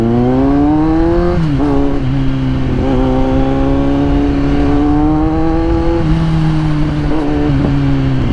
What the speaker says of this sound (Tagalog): pero yung tunog ng exhaust rinig mo pa rin